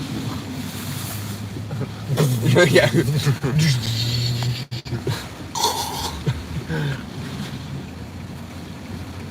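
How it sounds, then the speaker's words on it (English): Strong wind gust roaring against the microphone during Category 4 Hurricane Ida in Louisiana, building into a loud broadband rush with buffeting and water noise, while a person speaks briefly over it. "And there's that gust we wanted."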